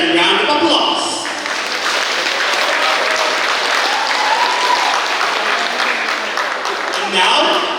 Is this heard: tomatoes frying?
no